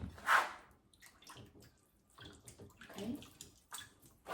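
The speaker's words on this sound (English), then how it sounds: "I'm going to like wash the pork belly first" Tap water runs and splashes in uneven bursts as sliced pork belly is rinsed under it in a kitchen sink, close and fairly quiet, with a brief spoken word near the start.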